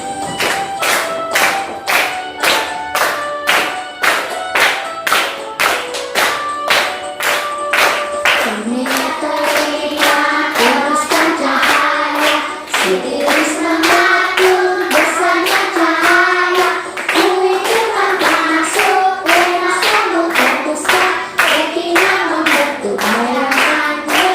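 A group clapping hands in a patterned rhythm during a classroom ice-breaking game about parts of the eye, sharp regular claps joined by chanting voices partway through, loud and close.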